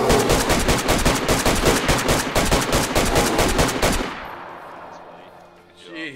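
Mosin rifle fire in DayZ on the Namalsk map, a loud, rapid stream of gunshots for about four seconds that cuts off abruptly, leaving fading echo and a faint voice at the end.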